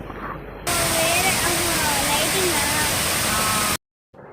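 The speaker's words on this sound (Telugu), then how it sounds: "వేవ్ సౌండ్ అయితే విన్నారు కదండి, నిజంగా రియల్ వాటర్ ఫాల్స్లా అనిపించిందా మీకు కూడా?" An artificial waterfall in a restaurant in Vijayawada gives a loud, steady rushing hiss that starts abruptly after a brief stretch of voices and stops just as suddenly.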